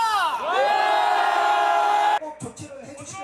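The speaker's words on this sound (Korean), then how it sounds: "우리 함성 5초간 발사!" A Korean crowd at a political rally gives a sustained, unison roar for about two seconds, then breaks into scattered, choppy shouts and cheers.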